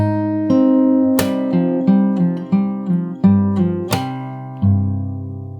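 Fingerstyle acoustic guitar plays the melody of a song very slowly, single plucked notes and bass notes ringing out one at a time with sustained decay, clear and close with no talking.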